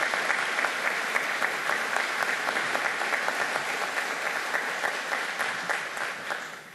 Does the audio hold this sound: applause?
yes